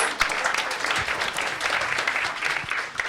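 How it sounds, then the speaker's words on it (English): Audience applause at a WIMA NFC USA competition, a dense, steady wash of many hands clapping at once, loud and continuous throughout with no talk over it. "Big round of applause, please"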